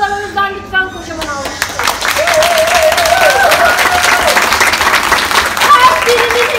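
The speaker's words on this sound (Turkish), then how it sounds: "O yüzden hakikaten alkışlayın" Loud, sustained applause from a large audience fills the room, dense clapping swelling after a sung or tonal passage at the start and staying strong throughout.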